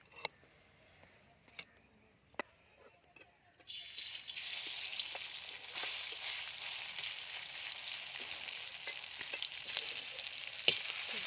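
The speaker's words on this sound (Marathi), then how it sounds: "आता आपण याला चांगलं फ्राय करून घेऊया।" A few light taps, then a steady loud sizzle of bombil (Bombay duck) thecha chutney frying in hot oil in a pan that continues to the end.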